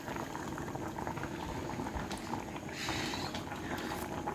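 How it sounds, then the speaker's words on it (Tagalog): Malunggay soup boiling in a pot, a dense, continuous bubbling and gurgling heard up close, steady throughout with no voices. "Kunting kulo na lang ito at maluluto na."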